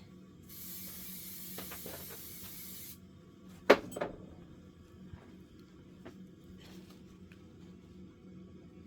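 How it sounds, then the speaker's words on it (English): A can of adhesive spray hisses in a steady burst of a couple of seconds inside a spray tent, then comes a sharp tap and a few faint clicks and rustles in a quiet room. "I'm going to spray it like this and then bring it down"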